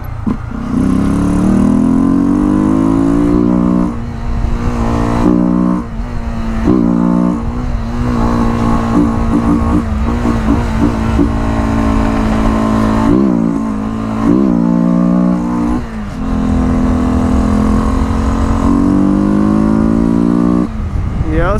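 Yamaha TW 300 motorcycle engine revving hard and accelerating through repeated gear shifts, the pitch climbing and dropping with each change, loud and close throughout.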